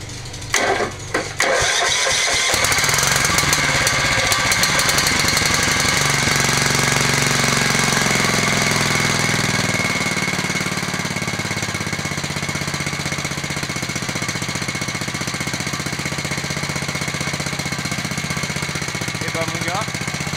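A riding lawn mower engine cranks with a few rough sputters and bangs, then catches and settles into a loud, steady running drone close by. A voice is heard briefly over it.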